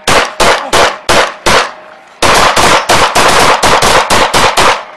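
Police gunfire during a shooting in Sacramento: a loud, close volley of five rapid shots, a brief pause, then a longer rapid burst of about a dozen more, with no voices over them.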